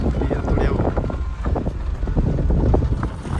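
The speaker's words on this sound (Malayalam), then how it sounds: "ഭയങ്കര കാറ്റുണ്ടോ? ഭയങ്കര കാറ്റ്." Strong, gusty wind buffets the microphone beside the Indus river in Ladakh, a loud continuous roar with rough low rumbling and no clear speech.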